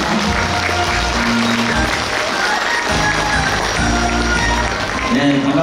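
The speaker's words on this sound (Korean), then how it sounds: "나오실 때 큰 환영의 박수 부탁드리겠습니다." A crowd claps and cheers loudly and continuously at a Bongsan mask dance performance at Seoul Nori Madang, with a dense wash of applause filling the space.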